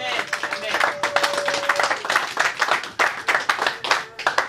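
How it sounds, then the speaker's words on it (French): A church congregation applauds together in bursts of hand clapping that rise and fall, with voices mixed in and a sustained sung or spoken tone running through the first half. "Acclamons pour la gloire de Jésus-Christ le béni."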